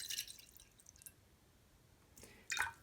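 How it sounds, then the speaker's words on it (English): Distilled water pours and splashes into a terrarium container for peat moss, in two short quiet bursts of trickling and dripping separated by a near-silent pause. "So I'm going to pour some distilled water"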